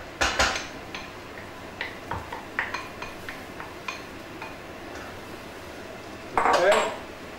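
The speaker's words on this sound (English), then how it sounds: "We're going to add all of that now to our pot." Tomatoes, herbs and Worcestershire sauce tipped into a cooking pot for an old-fashioned shepherd's pie, with a series of light metallic clinks and taps of utensil against pot, ending in a louder clattering scrape, close by with no talk.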